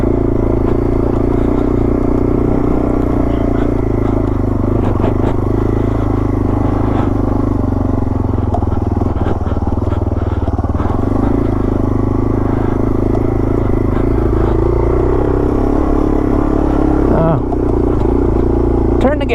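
A Yamaha TW200 motorcycle rides a rough trail at Little Moab, its engine a loud, continuous rumble with clattering over bumps and a few throttle swells, and people talk over it throughout.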